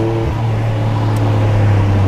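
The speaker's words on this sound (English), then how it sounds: "You hear the wastegate go?" A 1992 Mitsubishi 3000GT VR4 with a turbocharged engine and five-speed gearbox accelerates hard, its loud droning engine tone climbing steadily, heard up close with a brief turbo wastegate hiss and no talk.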